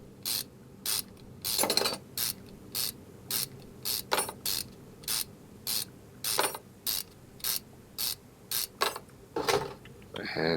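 Repeated mechanical ratcheting and clicking bursts from parts being unbolted and removed, in a throttle teardown inside Car Mechanic Simulator 2021, about a dozen short evenly spaced clicks with no talking.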